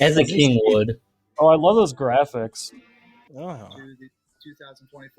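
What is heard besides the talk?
No distinct noise like a dog, phone or traffic.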